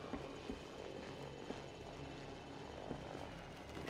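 Steady whirring hum of an enemy unmanned drone flying in Batman: Arkham Knight, a continuous engine drone with faint ticking transients, moderately quiet and unbroken.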